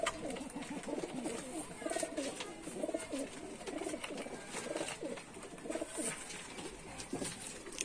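Giribaz high-flying pigeons coo steadily nearby, soft repeated throaty rolling calls continuing throughout over a faint background murmur.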